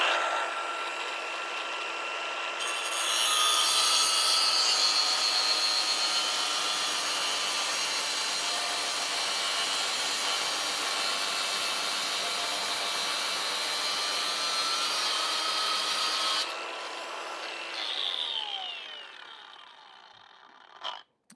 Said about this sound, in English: I just busted out the angle grinder and started doing things.